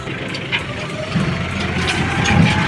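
A tractor slowly reversing on a farm plot, its engine a low continuous rumble held steady and fairly near.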